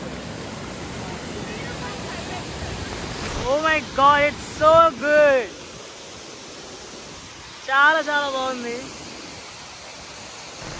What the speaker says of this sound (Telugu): విజువల్ చూడండి ఎలా వస్తుంది అక్కడి నుంచి వాటర్ ఫాల్